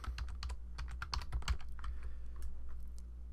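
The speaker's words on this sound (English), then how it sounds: "I'll just type in outfield" Computer keyboard typing, quick irregular clicking keystrokes in a short burst, fairly close and clear with quiet background.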